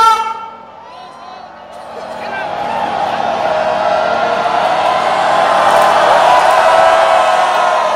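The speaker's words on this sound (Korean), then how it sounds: "함성과 함께 파도를 보내주십시오" A huge outdoor candlelight protest crowd in Gwangju roars as a crowd wave passes. After a brief dip, the cheering swells into a loud, sustained, distant wash of shouting voices.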